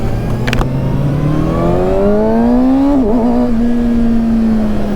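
A Kawasaki Ninja ZX-6R motorcycle accelerates hard on a test ride, its engine note climbing steadily through the revs in one long pull, then easing off and settling into a steady higher drone, loud and close with no talk.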